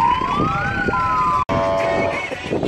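A fire engine's siren wails close and loud, rising and sliding as the firefighters drive away from a Children's Day event in Osiek Jasielski, cut briefly by a short gap, with no talking heard.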